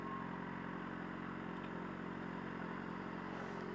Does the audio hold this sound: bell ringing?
no